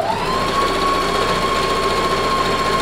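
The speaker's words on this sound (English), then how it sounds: "I've set the stitch for zigzag." A sewing machine running a zigzag stitch on knitted fabric gives a steady, close, continuous mechanical whir with a sustained tonal hum throughout, with no pauses and no voices.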